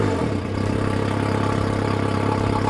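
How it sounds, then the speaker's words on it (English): An outboard boat engine runs steadily at idle during a freshwater flush. A close, loud, even hum with a low, regular mechanical pulse carries on without a break, and no voices are heard. "So now the engine's running."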